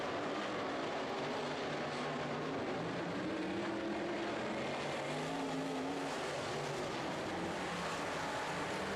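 Sprint cars race around a track, their engines merging into a loud, steady distant roar with rising and falling drones as cars pass, alone without voices.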